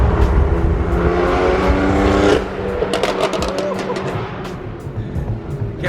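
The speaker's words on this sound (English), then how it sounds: "All of these M4s are freaking loud." Loud BMW M4 cars, including E92 models, rumble at a car meet: a heavy nearby engine drone cuts off abruptly, followed by crackling exhaust pops and a lighter idling rumble.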